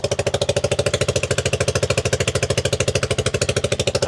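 A motorcycle tuk-tuk engine with a loose screw idles close by with a fast, even rattling chug, a loose metallic clatter repeating in steady rhythm.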